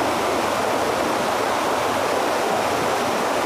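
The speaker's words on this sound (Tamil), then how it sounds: "இங்கே இருக்கிற ஆறில் தண்ணி எப்படி போகுதுன்னு சொல்லி பார்க்கலான்னு நான் வந்திருக்கேன்" A river flows through a dense Western Ghats forest, its water rushing in a loud, steady, even roar with no breaks or other sounds.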